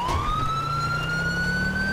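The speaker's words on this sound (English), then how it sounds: "I got the newer smart siren installed because so it's not as loud as it was before" Newer-style police smart siren on a patrol car in GTA V with LSPDFR, a single steady rising wail heard fairly close and moderately loud, alone without talk.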